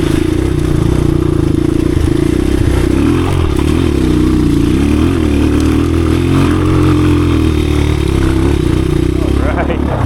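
A 1986 Honda XR200R dirt bike in second gear revs loud and close, the single-cylinder engine rising and falling in pitch with some clatter, while a voice talks over it.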